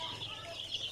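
Sonali chicks from a local hatchery chirp in a continuous high-pitched chorus close by, with no break.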